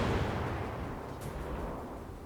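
Naval guns booming in a World of Warships battle, a dense low rumbling roar from gunfire and distant impacts that fades slowly across the moment, fairly quiet and without talk.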